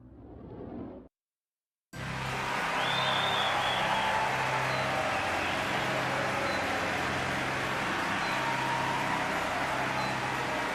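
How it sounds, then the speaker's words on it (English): In the video game Shin Megami Tensei III: Nocturne Remaster, after a brief cut to silence, a wash of reverberant applause swells and holds steady, broad and echoing like a large hall. "They've added reverb to the applause to make it seem louder"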